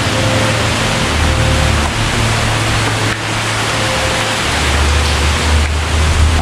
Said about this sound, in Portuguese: E a chuva engrossou, rapaziada.